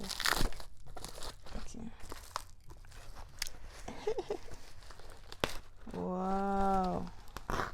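Makeup packaging box being ripped open by hand, with repeated crinkling and tearing of cardboard and wrapping in close, irregular bursts, while someone speaks briefly.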